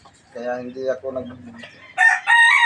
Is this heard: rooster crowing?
yes